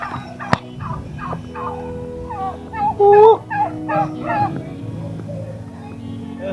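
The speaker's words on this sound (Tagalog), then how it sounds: "At yung pabo ni Tatang Ingo." A turkey gobbles in short, wavering bursts outdoors near a village house. The calls come close and fairly loud over a quiet background, with a sharp louder burst in the middle.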